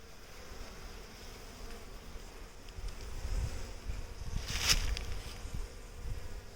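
Honey bees buzz around opened hives during a honey harvest: a steady, fairly quiet swarm hum with one brief, closer, louder buzz passing near the middle. No one speaks.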